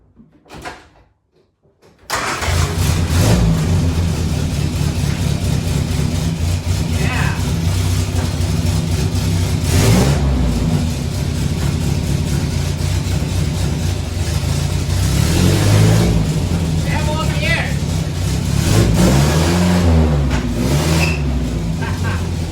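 A classic Mini with a freshly repaired clutch drives on a test run, its mid-pitched engine droning loud and close, revving up and down, with rattles and a voice talking over it after a quiet start.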